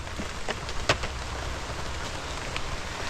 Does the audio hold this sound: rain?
yes